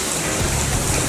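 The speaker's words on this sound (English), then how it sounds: "Guys, look how hard it's raining." Heavy rain pours down in a dense, steady hiss, a brief close wash of water with no voices.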